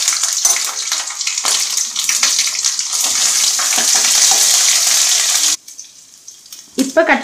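Capsicum, green chilli and ginger garlic paste sauté in hot oil in a pan, giving a loud, steady sizzle with light stirring scrapes. The sizzle drops away abruptly near the end, leaving a few clattering kitchen sounds.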